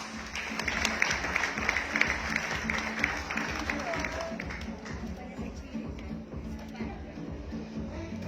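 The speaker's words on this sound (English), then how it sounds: "A big, big round of applause" An audience applauds at a pageant press presentation in Baguio City, a steady crowd patter of many hands under a loud voice talking over it.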